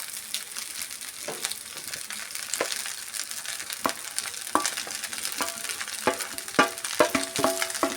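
Fried eggs are stirred through egg rice in a hot pan: a steady sizzle under repeated scraping and clinking of a spatula, growing busier toward the end, close by with no talk.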